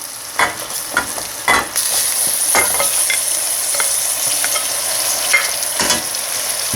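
Boiled shredded chicken sautéing with softened garlic and onion in a pan, a steady close sizzle broken by repeated scraping stirs of a spatula.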